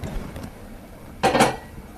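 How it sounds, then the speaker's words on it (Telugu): A metal wok (kadai) set down on a lit kitchen stove while cooking ridge gourd curry, one short, close metallic clank against a quiet background. "దాని మీద బాణలు పెట్టుకొని"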